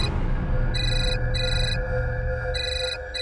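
A telephone rings in repeated electronic double bursts, four short trilling rings in quick succession, heard nearby over a steady low background hum with no speech.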